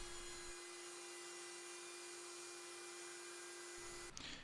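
A wood router cuts a 0.24-inch-deep channel along the inside edge of an upper rail, a steady loud high-pitched whine that holds for about four seconds before spinning down.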